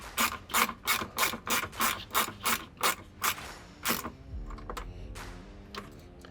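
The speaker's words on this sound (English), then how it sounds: "then we can just go ahead and fully tighten down the stud" A hand ratchet tightens the stud on an LED light bar wiring harness in a rapid, even run of about a dozen clicking strokes, then a few slower, quieter clicks, close up with no talk.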